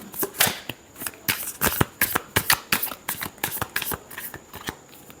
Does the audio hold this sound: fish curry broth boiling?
no